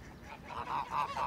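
A gander, a breeding male goose on a farm, honks in a run of four loud, nasal calls close to the microphone. No one speaks over them.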